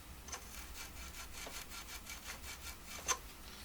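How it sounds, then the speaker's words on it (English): A 3M scrub pad or wire brush scrubbing paint off bolt threads on a Thorens turntable during spring replacement, a soft, quiet, rhythmic back-and-forth rasping with about a dozen strokes, heard alone. "Take your 3M scrub pad or your wire brush and just clean off any paint that's potentially going to keep the new nut from threading well."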